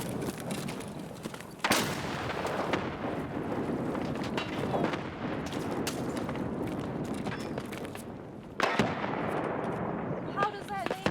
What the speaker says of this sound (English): I'm lobbing nades.